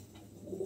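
A pair of magpie pouter pigeons gives a single short, soft coo close by, low and muffled, over faint background noise.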